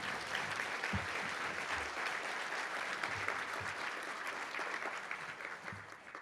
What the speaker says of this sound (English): So give that team a big round of applause.